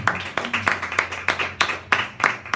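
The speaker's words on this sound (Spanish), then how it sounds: "Denle un aplauso al Señor." A church congregation claps in a fairly steady rhythm of sharp, distinct hand claps, close and moderately loud, with no one speaking over it.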